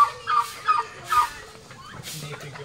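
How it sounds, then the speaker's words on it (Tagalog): Several turkeys gobble in bursts on a rural hillside, three or four rattling calls rising then fading, fairly close, with scattered clucks and faint background noise between them. "Daming pabo."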